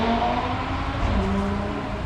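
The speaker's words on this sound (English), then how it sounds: "Can't beat the sound of a decatted 5-cylinder," A decatted five-cylinder 2020 Audi RS3 with its catback exhaust removed and no OPF rumbles steadily at idle, a deep continuous drone close by for a couple of seconds.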